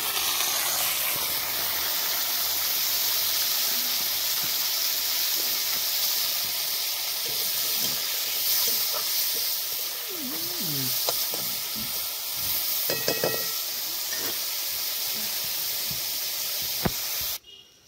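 Bitter gourd goes into hot oil with tempered spices, raising a loud, steady close sizzle and hiss that carries on with occasional pops and scraping clatters before cutting off at the end.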